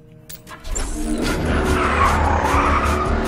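Car tires skid and squeal in Battlefield Hardline as a vehicle pulls away, a loud, sustained screech rising over a rumbling engine for about three seconds, with no voices.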